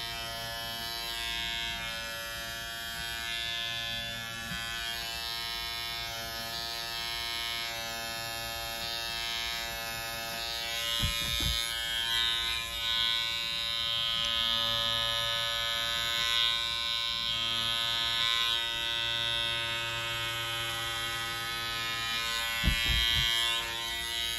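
An electric shaver trimming the pile of a tufted rug, a continuous steady high-pitched motor buzz held close for the whole stretch, with a couple of brief knocks and shifts in tone as it moves across the surface.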